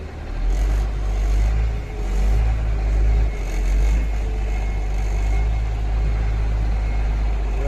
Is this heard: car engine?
yes